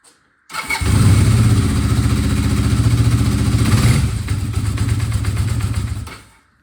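Small engine running steadily after a brief start, loud and close with a rough, clattering idle; the note drops slightly about two-thirds through as the choke is opened fully, then runs on before cutting off.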